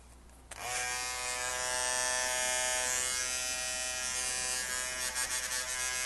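A Wahl beard trimmer, converted from rechargeable to corded and plugged into the wall, switches on with a click and hums steadily, a close, loud electric buzz that runs without interruption.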